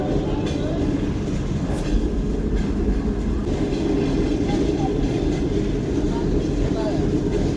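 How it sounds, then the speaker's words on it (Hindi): A train rolls along the railway while slowing down, with a dense rumbling clatter of wheels on track, occasional squeals and bumps, and a continuous loud ride noise throughout. "और अब ट्रेन एक बार दोबारा से स्लो हो जाएगी।"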